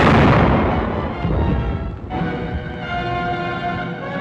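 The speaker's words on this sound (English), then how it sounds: "By direct fire, trained armored force gunners clear obstacles for their infantry teammates." Heavy, booming direct-fire shots from WWII armored force guns roll out in a loud, sustained rumble, with a second blast and long echoing decay following midway through.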